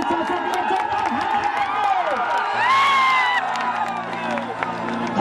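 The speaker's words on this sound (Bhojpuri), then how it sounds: "तो मैं चाहता हूं कि जोरदार ताली बजे हमारे चाचा के लिए जोरदार" A large crowd at a live stage show cheers, whoops and claps loudly and continuously, shouts rising to a peak midway, while a voice speaks over the noise.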